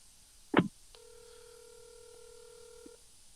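A phone call is placed and left unanswered: a short sharp burst, then a steady electronic ringing tone that holds for about two seconds, clear and alone with no voices.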